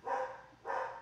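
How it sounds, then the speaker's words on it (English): A dog barks twice at home in quick succession, two short, full barks about half a second apart, moderately loud and close by, with no talking over them. "sorry if you hear my dog barking"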